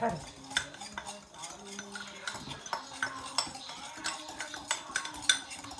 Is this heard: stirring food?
yes